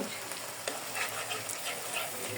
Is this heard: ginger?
yes